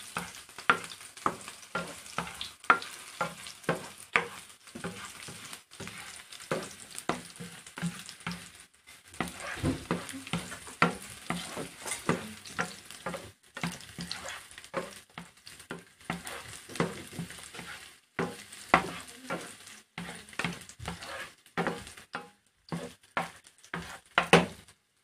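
Garlic, ginger and onion sizzle steadily in a hot pan while being stirred, with frequent scraping and clinks of a utensil against the pan, close and fairly quiet, no voices.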